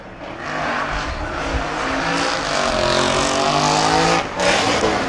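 A heavy BMW M6 drift car on Falcon tires screeches continuously through a slide at Circuit Ricardo Tormo during the 2024 FIA Motorsport Games, the engine revving hard and loud under constant tire squeal.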